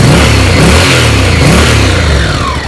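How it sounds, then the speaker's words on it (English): A Honda NC700X motorcycle's fuel-injected engine runs close and loud, its note rising and falling through quick revs with a throaty, pulsing rumble. "I'll turn on the bike right now."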